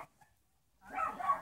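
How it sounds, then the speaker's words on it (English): Dogs bark in a short burst after a near-silent pause, fairly close and moderately loud, with no talking. "ignore the dogs"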